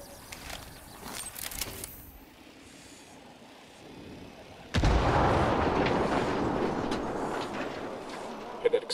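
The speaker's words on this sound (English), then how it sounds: "Hear that explosion?" Explosion and gunfire in the video game Ghost Recon Wildlands: after quieter in-game ambience and voices, a sudden loud burst erupts near the five-second mark and gives way to sustained rumbling, crackling noise.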